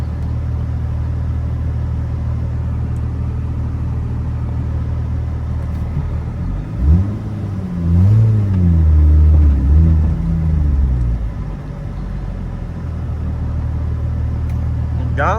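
An Acura TL with a 3.7 swap, six-speed, Comptech exhaust and J-pipe starts cold: a steady low idle rumble, then a sharp crank and a few rising revs that settle back to idle.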